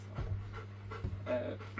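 A large, energetic dog pants in quick rhythmic breaths, close and fairly quiet, with a steady low hum underneath and no talking.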